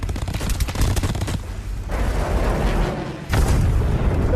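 Heavy gunfire pounds a bunker in an action movie scene, loud rapid bursts and booming impacts in a dense rolling barrage with brief lulls between volleys.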